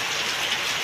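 Heavy morning rain pours down steadily on a farm where goats are sheltering, a dense, continuous hiss of drops drumming on surfaces with no pauses and no voices.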